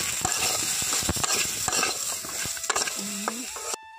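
Eggplant fries in a pan with salt and turmeric while a utensil stirs and scrapes through it, giving a steady close sizzle broken by clicking strokes and a brief thin whistle near the end.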